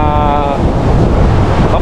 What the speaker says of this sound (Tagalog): Dahil yung lakas ng alon, pag bumalik, malakas din.